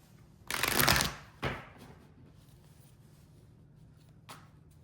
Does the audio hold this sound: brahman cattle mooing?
no